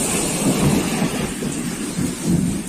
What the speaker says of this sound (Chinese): 这个雨大家可以看到啊，这个才短短的下了还十几分钟